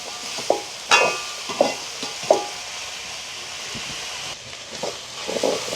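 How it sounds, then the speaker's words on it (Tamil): Chopped vegetables sauté with a little salt in a pan at a village home, a soft steady sizzle broken by several close scraping stirs and clatters of the spoon against the pan. "கொஞ்சமாக உப்பு போட்டால் உங்களுக்கு கொஞ்சம் வேகமாக வதங்கிடும். இப்படியே மிரக்கறிகள் எல்லாம் வதங்கட்டுக்கு."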